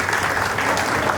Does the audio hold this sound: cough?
no